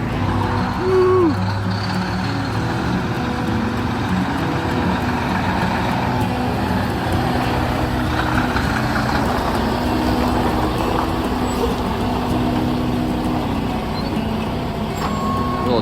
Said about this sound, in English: Alright, here comes the first truck.